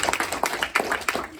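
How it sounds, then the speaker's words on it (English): Audience at a community meeting in a conference room claps in applause, a dense run of hand claps filling the short moment with no talking. "Give me a round of applause."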